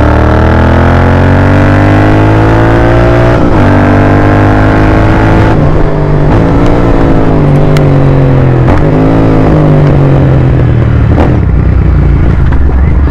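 Royal Enfield GT650 twin-cylinder motorcycle on a morning ride in Hyderabad: a loud, close engine drone whose revs rise and fall through gear changes over steady road noise.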